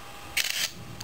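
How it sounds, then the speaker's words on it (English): The camera shutter of a Nokia 6500 phone fires once, a short bright electronic click burst, close and alone in a quiet room. "Just press the shutter button halfway to focus. When it turns green, click,"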